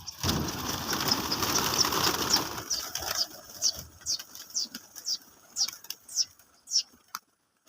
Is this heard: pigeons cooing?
yes